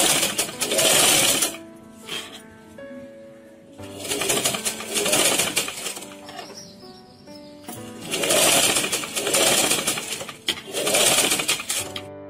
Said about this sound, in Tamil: பைப்பிங் வைக்கும்போது பைப்பிங்க ஸ்லோவா அப்படியே தைக்கணும்.